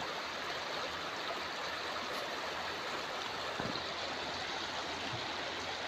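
A river stream flows at a fishing spot, giving a steady, unbroken rush of water that stays fairly quiet and constant throughout, with no voices.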